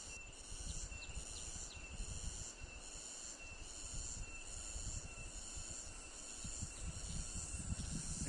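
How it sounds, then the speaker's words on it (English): A cicada-type insect calls in the background, a steady high shrill buzz with faint pulsing that continues throughout over a low hiss, fairly quiet and even. "There's a cicada type bug that makes that sound in the background."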